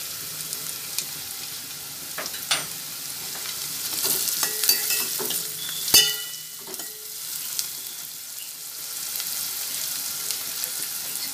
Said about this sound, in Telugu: ఉల్లిపాయలు త్వరగా వేగుతాయి.